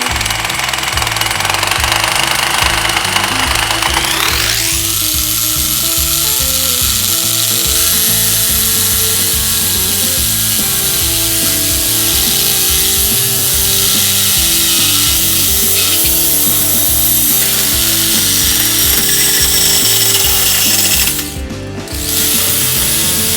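A power tool cutting through a welded steel tube on an overland trailer hitch, a loud continuous rapid mechanical hammering and grinding that rises in pitch early and keeps going, close up, with no talking.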